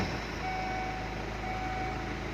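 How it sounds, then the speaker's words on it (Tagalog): A vehicle's engine idling steadily just after being started, a continuous low rumble joined by a thin, steady whine partway through, with no voices. "papaandarin na po natin ang sasakyan"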